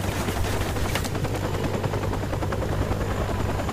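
A helicopter from the video game Modern Warfare Remastered drones loudly and steadily throughout, its rotor thrum mixed with scattered bursts of gunfire-like cracks.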